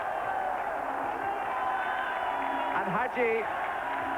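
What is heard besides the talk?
football crowd cheering a Romania goal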